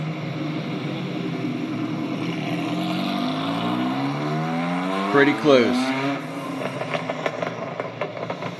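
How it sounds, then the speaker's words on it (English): A Dodge Stealth's dual overhead cam V6 with a dual X-pipe stainless steel exhaust idles throatily, then revs up sharply with rising pitch and crackles back down; brief speech over it. "the dual X-pipe stainless steel exhaust on the Dodge Stealth"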